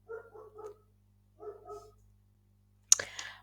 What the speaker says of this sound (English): let me just apologize for the dogs in the background.